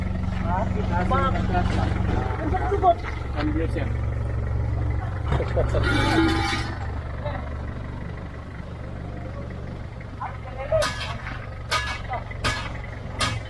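A diesel Isuzu Elf 4x4 truck with a 4JG2 engine runs steadily at idle as a Japan surplus unit, its low drone continuous beneath people talking nearby.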